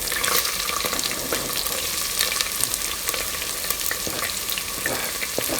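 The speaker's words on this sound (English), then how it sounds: "And next goes in our ginger. Little bit fry, and then goes in our onions and chili." Ginger, onions and chili fry in hot oil for chicken fried rice, giving a dense, even sizzle with scattered crackles and stirring clicks, close and continuous with no talking.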